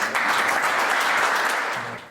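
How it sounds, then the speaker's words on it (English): Audience applause for the panelists at a tech accelerator panel, a dense, steady wash of clapping from a full room that holds strong for about two seconds before starting to taper. "Can we get a round of applause for panelists?"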